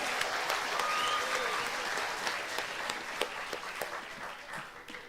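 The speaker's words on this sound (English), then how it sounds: "Give them a big round of applause." Applause from the audience at a 50th anniversary sponsors night for a Hiri Moale pageant. Broad, steady clapping from a crowd fills the room, sounding moderately distant and slowly easing toward the end.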